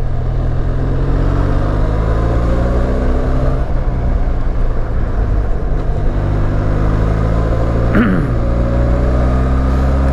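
Engine of a Benelli TRK502 motorcycle being ridden, a steady, loud mid-pitched drone with rumbling low harmonics and constant wind noise, plus one brief rising pitch sweep near the eighth second.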